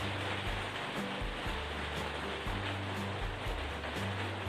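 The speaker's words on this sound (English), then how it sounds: "Listen to that rain." Heavy rain falls steadily in a vegetable garden, a dense continuous hiss with low rhythmic thumping underneath, unbroken and with no voices.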